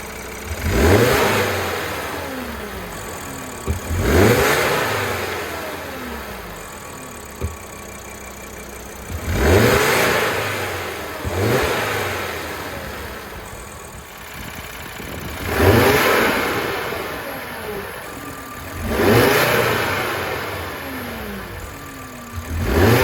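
Audi RS3 8P fitted with a GFB DV+ diverter valve accelerating hard through the gears, with repeated rising engine pulls broken by short gaps at each shift, about six surges in all, close and loud with no talk.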